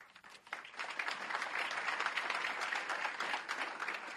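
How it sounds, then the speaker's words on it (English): Theater audience applauding at the curtain call of a community musical production: dense, steady clapping that swells quickly and holds at an even, loud level throughout. "The audience claps."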